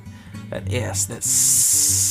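A voice speaks briefly, then a loud, close hiss of rib eye steaks searing in a hot pan takes over and keeps crackling steadily.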